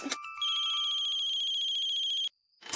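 A phone ringtone trills steadily and loudly for about two seconds, then cuts off abruptly, leaving a faint lingering tone.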